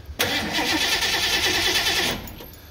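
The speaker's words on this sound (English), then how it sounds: "Let's go ahead and crank the engine." A 1991-or-older Ford truck with a dual fuel tank problem cranks with a loud, rapid pulsing churn for about two seconds, then the engine noise drops away to a quieter fading hum.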